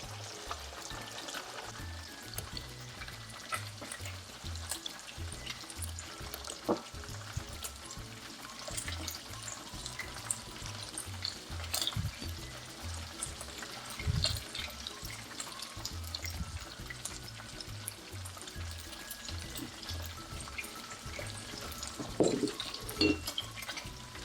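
Snapper fish frying in a pan, a quiet steady sizzle with occasional crackles and light pops close by.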